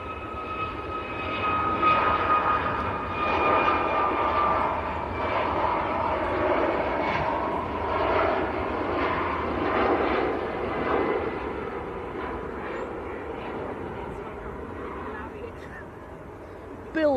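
A Corendon airliner bound for Antalya roars through its takeoff roll at Manchester Airport, a loud, steady engine rumble holding for the whole stretch while a person talks over it.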